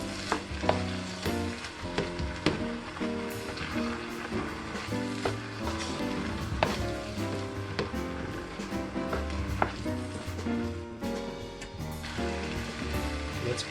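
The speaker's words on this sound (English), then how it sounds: "And stir and mix well." Chinese fried rice being stirred and fried in a pan, a steady sizzle under the scrape and clatter of the utensil against the metal, continuous and fairly close, with no talk.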